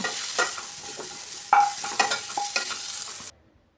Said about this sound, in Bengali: কড়াই ফুলকপি দিয়ে নুন ও হলুদ দিয়ে আমি ভালো করে ফুলকপিটা ভেজে নেব